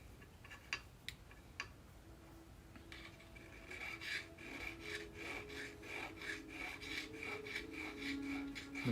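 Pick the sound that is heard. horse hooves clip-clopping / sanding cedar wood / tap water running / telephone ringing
sanding cedar wood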